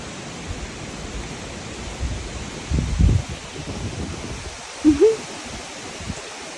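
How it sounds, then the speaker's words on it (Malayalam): Steady outdoor wind roar through trees with soft rustling, swelling in a couple of stronger gusts. "കണ്ടോ കണ്ടോ കാറ്റ് കണ്ടോ"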